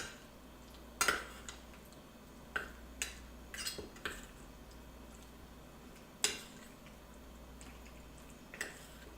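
Jerk chicken ingredients being mixed with salt and black pepper in a bowl, giving scattered clinks and scraping knocks at uneven intervals, close and moderately quiet, with no talking.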